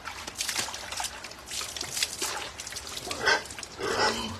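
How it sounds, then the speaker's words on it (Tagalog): Pig grunts and snorts in a loose, irregular series, fairly close, with some wet dribbling noise mixed in and no talking. "Lalo na kung baboy namin maingay"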